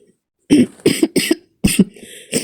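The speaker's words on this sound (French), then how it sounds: "je suis malade, je tousse" Four harsh, wet coughs in quick succession from one nearby sick woman, followed by a softer throat-clearing sound at the end.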